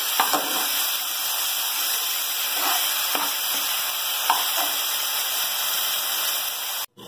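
Eggplant roasts in a pan with ginger garlic paste for a yogurt-based dahi baingan: a steady, even sizzling hiss with a few faint crackles and light taps, running continuously until a brief break near the end.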